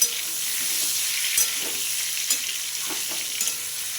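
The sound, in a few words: stirring pointed gourd (potol) frying in pan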